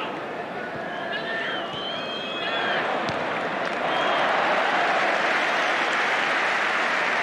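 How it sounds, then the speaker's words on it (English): A football stadium crowd at the 1979 Charity Shield, Liverpool v Arsenal, applauds continuously, a dense wash of clapping that swells louder partway through, with voices faintly mixed in. "Even in defence, they get applause."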